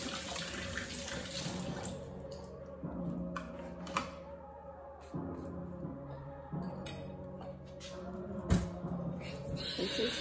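Water runs from a kitchen tap as strawberries are washed under it, a steady close splashing stream with small clatters and brief voices in the background.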